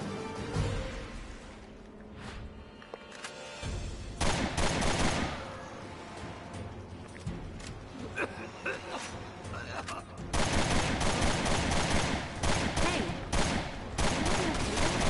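Bursts of gunfire in the video game Resident Evil Revelations 2 ring out repeatedly and loudly, with rapid shots clustering in dense volleys amid game sound, while players talk over them.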